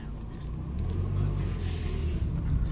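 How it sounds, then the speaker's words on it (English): A 1996 Mercedes-Benz C180 W202 pulls away in first gear, its engine a low steady rumble rising slightly as the car moves off, heard from inside the cabin. "We're in first, now let's go for a drive."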